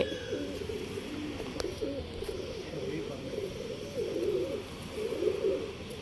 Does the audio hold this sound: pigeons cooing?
yes